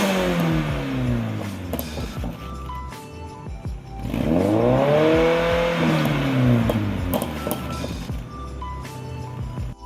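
A Volvo iron red block four-cylinder engine, known for tuning up to 800 horsepower, revs loudly and close, rising and falling in pitch through repeated throttle blips with a strong surge in the middle.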